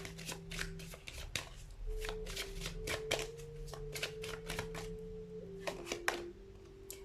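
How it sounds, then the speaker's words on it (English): A deck of tarot cards being shuffled up close, a steady run of crisp riffling flicks and slaps over a soft, steady background hum. "So let's get one more card from this particular deck."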